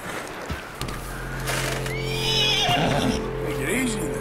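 Horse neighing in Red Dead Redemption 2, a loud whinny rising and falling over steady game ambience, with hoof clip-clop and a voice talking underneath.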